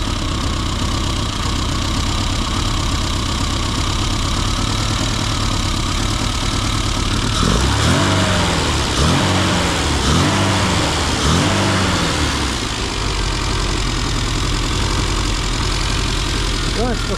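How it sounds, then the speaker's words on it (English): A Classic Mini Cooper RSP engine held at a raised fast idle during tuning, a loud steady close-up drone with a rhythmic throbbing pulse midway, without talk. "let's give it a little bit more fast idle"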